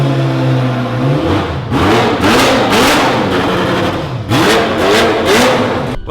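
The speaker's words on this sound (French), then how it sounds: "cette voiture, elle fait un bordel de fou" A Ferrari F40 LM sports car engine revs hard and loud and close, with repeated rising and falling bursts of throttle over a rough running base, no talk.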